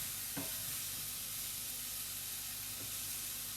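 Mushrooms sauté in a hot pan for an Asian beef and vegetable dish, giving a steady, faint sizzle with a couple of brief clicks as they are moved around, and no voices.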